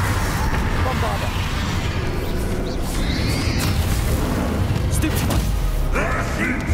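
The Bombarda explosion spell in Hogwarts Legacy bursts amid a busy combat mix, with rumbling booms and bright crackling impacts layered over low continuous noise, close and fairly loud.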